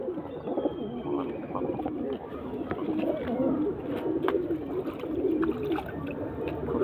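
A pair of pigeons coos softly and continuously at close range, low throaty calls overlapping with a faint background hum and no speech.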